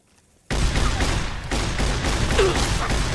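Shotgun fire in a video game erupts as a loud, dense barrage that cuts in abruptly after a brief silence and stays heavy and continuous to the end.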